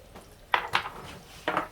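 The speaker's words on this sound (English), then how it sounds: "So I've got all my vegetables in here just cooking in the wok." Vegetables cooking in a wok, heard as a few sharp metallic clanks and scrapes, two close together and then a third a moment later, over a faint background sizzle.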